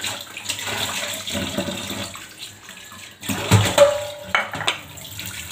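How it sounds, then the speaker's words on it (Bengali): Hot water poured over fish in a kitchen, a running splashing flow that surges louder partway through, close by and with no talking. "এখন গরম জলটা ঢেলে দিচ্ছি।"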